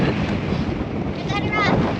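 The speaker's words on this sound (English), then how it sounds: "It's a windy day." Strong wind buffeting a microphone outdoors on the Oodnadatta Track in the Australian outback, a continuous loud rumbling roar with gusts throughout.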